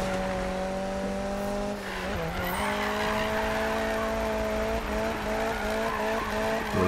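Car drifting in Need for Speed with Ken Block, a sustained high engine whine with tire squeal and skidding, loud and continuous, with the pitch dipping briefly midway before holding steady again.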